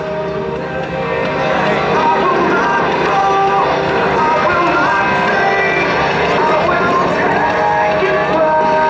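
An A-10 Thunderbolt II jet performs a rapid roll during an air show demonstration, its loud sustained engine roar steady throughout while an announcer talks over it.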